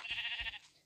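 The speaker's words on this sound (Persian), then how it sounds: "اوه، گوسفند" Video game sheep gives one short, nasal bleat, close and clear, with nothing else around it.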